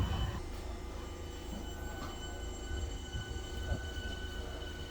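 British Rail Class 377 electric train departing Bickley station bound for Ramsgate, a steady low rumble of wheels and traction hum at moderate distance with faint high electrical tones running throughout, no voices.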